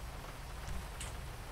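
Steady rainfall in the GTA 5 video game, a constant even hiss of drops on surfaces, close and unbroken, with no talking.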